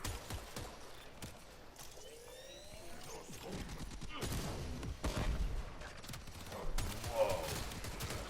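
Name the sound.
gunfire from a gun in the video game Warframe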